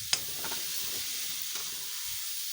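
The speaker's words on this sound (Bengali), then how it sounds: "আলু দিয়ে ভালোভাবে কষিয়ে নেব।" Mushrooms and potatoes sautéing in a hot pan, a steady close sizzle with a brief stirring clink at the start and faint scraping, no talk.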